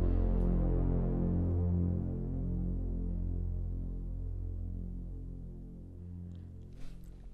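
A single sustained synthesizer note played in Logic Pro and shaped by its envelope: a rich, low harmonic drone that swells, holds, then slowly fades across about seven seconds, heard alone with no voice.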